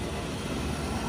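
A 40-ton glycol chiller runs with a steady, dense broadband roar and low hum, constant and close with no break or talk.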